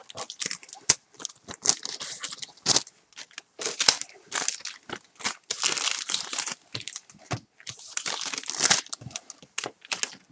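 Pokémon XY Primal Clash booster pack wrappers crinkle and crumple in hand, in irregular bursts of sharp, close plastic rustling separated by short pauses.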